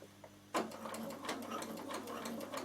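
After a short quiet moment, a sewing machine starts up and stitches a zippered knitting bag, its quick, even mechanical patter running close and fairly soft to the end.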